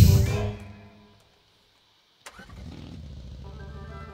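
A car engine in the video game PUBG, first revving loudly then dying away into silence, followed by a sharp knock and the engine starting again into a steady mid-pitched idle.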